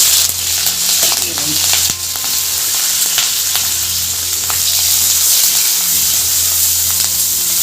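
Onions and green chillies sizzle steadily in hot oil with mustard seeds and cumin, a loud continuous hiss with occasional crackles and stirring scrapes, close up and with no voice.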